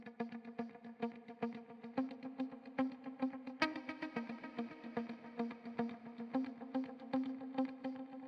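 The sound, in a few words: clean muted electric guitar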